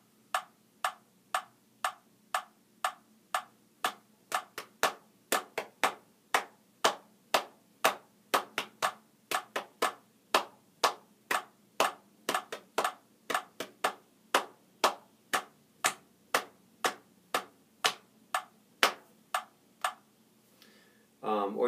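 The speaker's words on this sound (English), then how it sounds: "you might find it helpful to clap the rhythm first" Hands clap a steady rhythm along with a metronome during ukulele practice, giving a long even run of sharp, close claps at regular intervals with no voice over them.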